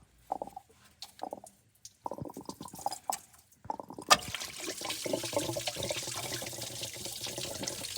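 Coolant from a Toyota FZJ80 Land Cruiser's 1FZ-FE engine, with its thermostat stuck open, drips and trickles in scattered splashes, then breaks into a continuous close gushing pour as the thermostat cover seal is broken.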